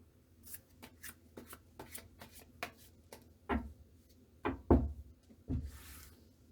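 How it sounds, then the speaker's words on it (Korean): Tarot cards being shuffled and drawn: soft papery riffles and flicks, then a few sharper slaps as cards are laid down, ending in a brief swishing slide, all close and without speech. "어떻게 행동을 해야 하는지 조금 더 자세하게 조언 카드"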